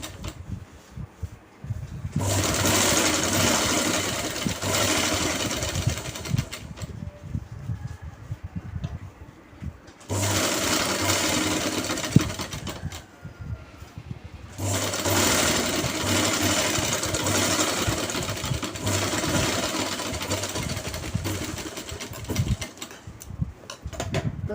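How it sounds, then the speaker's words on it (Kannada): Sewing machine stitching the bottom hem of a pant, running in long loud steady bursts of rapid needle chatter separated by short pauses, close up with no talk. "ಓಕೆ ಗೈಸ್, ಇನ್ನೊಂದು ಪ್ಯಾಂಟ್ ಸಹ ಸ್ಟಿಚ್ ಮಾಡ್ತಿದ್ದೇನೆ."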